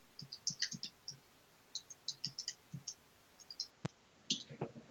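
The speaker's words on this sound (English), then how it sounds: "I hear typing." Keys on a computer keyboard click in quick, irregular runs with short pauses, faint and close in an otherwise quiet room.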